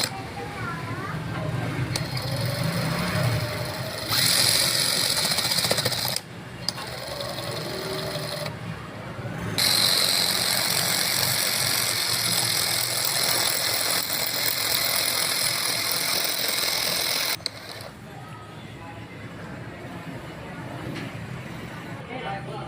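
A repaired electric meter machine runs with a steady mechanical whir and buzz, changing level in a few abrupt sections, with talking over parts of it.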